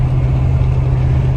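A camper van's engine runs steadily while driving, a loud continuous low hum and drone with no breaks.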